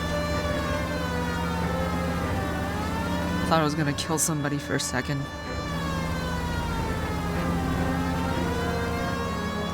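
Police car siren in the video game L.A. Noire, a loud wailing tone rising and falling throughout, with someone talking over it partway.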